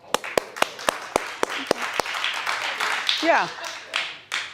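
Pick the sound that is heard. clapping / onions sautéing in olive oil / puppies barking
clapping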